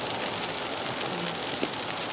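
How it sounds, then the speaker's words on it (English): Steady rain falls on an unexpectedly wet day at an outdoor location, a continuous even hiss with no voices. "how wet it is today. It wasn't calling for rain."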